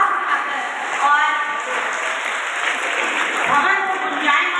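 Schoolchildren at an annual function and donor-honouring ceremony at a government girls' senior secondary school clap together in loud, continuous applause that fills the hall, with no pauses.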